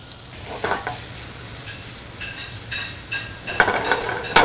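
Catfish and onions fry in a pan with a soft, steady sizzle, and a utensil stirs and scrapes against the metal in short bursts. The sound is close and fairly quiet, with no talk.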